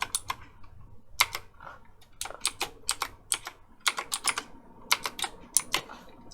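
A password is typed on a computer keyboard in quick bursts of close, crisp key clicks with short pauses between groups, fairly quiet and with no speech.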